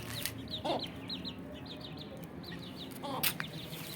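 Young Aseel chickens, about two and a half months old, cluck softly around a backyard coop, with a few short clucking calls scattered over steady low outdoor background noise.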